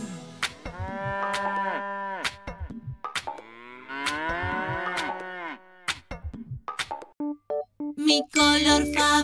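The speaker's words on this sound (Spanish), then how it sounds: "Hacen mu las vacas, con sus manchas de color." Several long, gliding cow moos follow one another in a Spanish children's song about cows, each drawn-out call bending in pitch, before a burst of bright music takes over at the end.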